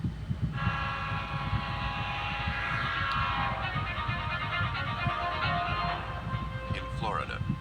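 A train rolls past along Florida tracks with rumbling wheels while a long, loud horn blast sounds for several seconds and then fades; voices can be heard faintly under the noise.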